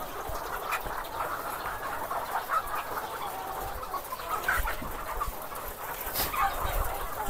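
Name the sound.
chickens clucking in a backyard chicken coop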